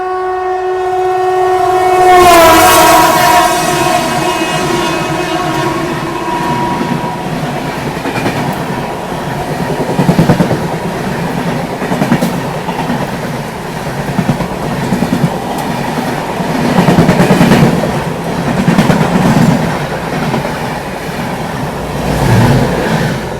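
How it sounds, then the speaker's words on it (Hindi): The Bandra Ajmer Express passes alongside at close range, opening with a loud horn blast. A long, steady rumble of rolling wagons follows, with rhythmic clattering of wheels over rail joints. "ये अभी बगल से क्रॉस हुई बांद्रा अजमेर एक्सप्रेस"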